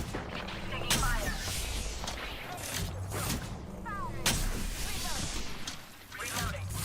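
Gunfire in an online console shooter during a ranked match, with repeated bursts of shots and whooshing impacts, fairly distant and mixed with game noise.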